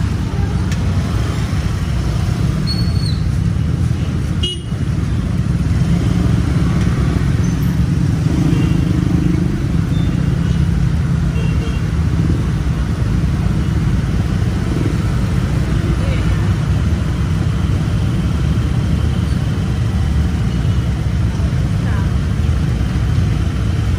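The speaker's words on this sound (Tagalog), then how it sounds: "At napakabigat ng traffic dito." Heavy, congested road traffic in Naga City after a typhoon: a continuous close rumble of idling and crawling cars, motorcycles and trucks, with someone talking over it.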